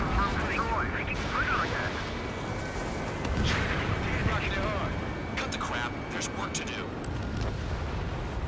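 Explosions of destroyed targets in the Ace Combat 7 combat flight game, deep rumbling blasts over steady jet engine roar, with a voice talking throughout.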